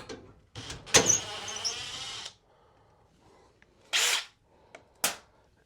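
A power drill backs screws out of an Electrolux dryer panel: a close, whining burst of about a second and a half, then two brief blips after a pause.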